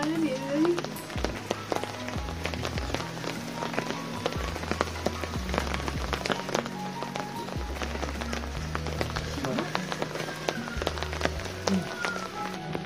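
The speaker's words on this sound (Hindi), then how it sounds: "शुरू होगी बारिश आने" Steady rain patters on a hard surface with scattered drips, continuous throughout, while low rhythmic thumps sound underneath.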